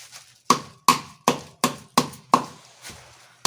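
Seven sharp, heavy pounding strikes at a steady, even pace as rock salt is pounded by hand, each ringing briefly before the next blow, close by with no talking.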